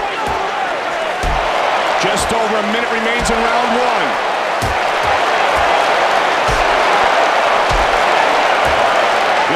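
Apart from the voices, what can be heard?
crowd cheering in the video game UFC 2009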